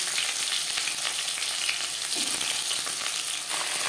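Cut pumpkin pieces fry in hot oil with panch phoron, bay leaf and dried red chilli, a loud, continuous hiss and crackle with a brief stirring scrape midway, no voices.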